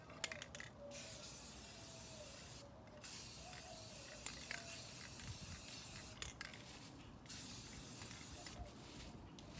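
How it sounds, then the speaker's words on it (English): A can of spray paint hisses in repeated short bursts with brief pauses between passes as a tumbler cup is coated; the spraying is soft and fairly close. "When you spray, you're gonna spray across it."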